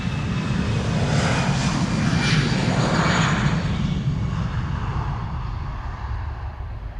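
An Irish-registered Airbus A320, about 16 years old, departs Amsterdam Schiphol, its engines giving a loud, steady broadband roar that swells slightly and then slowly fades as it moves off, with no voices.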